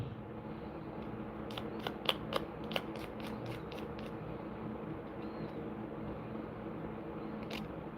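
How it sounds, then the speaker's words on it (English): A precision knife cuts a toothpick while building a miniature, producing a quick series of faint, sharp little snaps and clicks over a quiet background hum, then one more click near the end. "Cut toothpick with precision knife."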